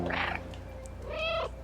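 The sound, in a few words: cat meowing in the video game Stray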